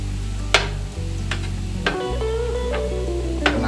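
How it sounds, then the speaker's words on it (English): Mushrooms sautéing in a pan with a steady low sizzle, broken by a few sharp clinks and scrapes of a utensil stirring them, close and moderately loud with no talk. "saute some of the mushrooms up a little bit"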